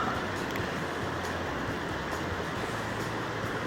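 A river flows steadily beside a California gold prospecting spot, giving a continuous, even rush of water that holds the same level throughout with no voices.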